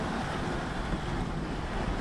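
Strong wind blowing across open water on a sailing boat during a line squall, a steady, loud roar of gusts and wave wash with no talk.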